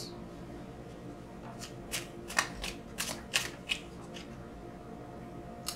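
Tarot cards are shuffled and drawn close up, a run of quick, crisp riffling slaps and flicks in short bursts over a quiet room hum.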